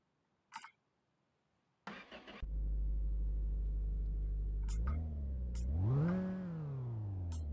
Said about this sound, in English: Quietest fucking engine I've ever heard.